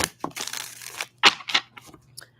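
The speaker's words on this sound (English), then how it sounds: "One more shuffle I just heard." Several brisk riffling bursts of tarot cards being shuffled, with short pauses between, close and fairly loud, no talking.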